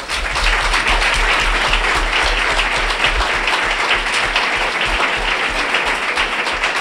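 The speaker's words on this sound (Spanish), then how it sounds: "Un aplauso." Audience at a book presentation in a hall applauding the author, a loud, sustained wash of many hands clapping that holds steady throughout without any voices.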